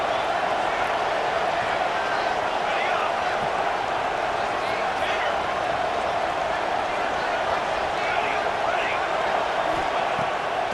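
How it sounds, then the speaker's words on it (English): Stadium crowd cheering in EA Sports College Football 26 during a Kentucky versus LSU game, a steady, loud roar of broadband crowd noise sustained throughout with no pauses. "and this crowd is hype."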